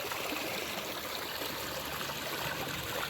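Water trickles and splashes steadily down a small drop in a drain ditch, like a miniature waterfall, a continuous close, even rush with no talking.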